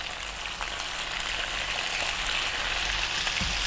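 Onion and salt fry with chicken in hot oil for a chicken curry, giving a steady, close, dense sizzle and crackle that fills the whole moment with no talk.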